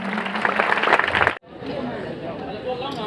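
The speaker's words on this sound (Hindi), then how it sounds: "तालियां।" A crowd at an award ceremony applauds with a burst of dense clapping that stops abruptly after about a second and a half, giving way to murmuring audience chatter.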